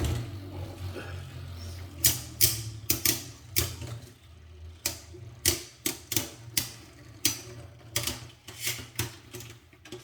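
Beyblade spinning tops battle in a stadium, clacking together in a quick irregular series of sharp metallic hits over a steady whirring hum.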